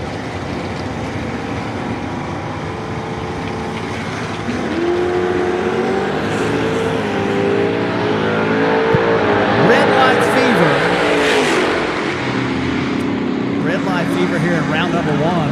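A white Camaro and a Mustang at a funny car drag race, engines roaring loud and steady, swelling as they rev and pull away, with an announcer talking over them.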